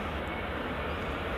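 A Ryanair airliner departs from runway 24 at Edinburgh Airport with a brief, steady broadband jet roar and low rumble, heard at moderate distance without voices.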